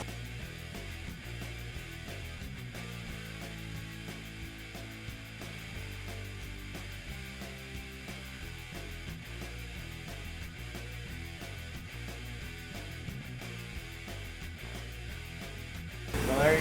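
A laser cutter working through EVA foam to cut a prop saw blade, a steady whirring hum with rapid ticking pulses from the moving head, even and moderately loud until a brief louder burst at the end.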